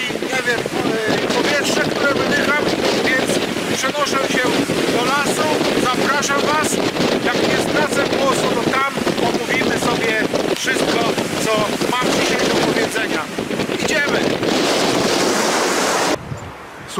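Blustery seaside wind buffeting the microphone over steady crashing sea waves, loud and continuous throughout, cutting off abruptly at the end.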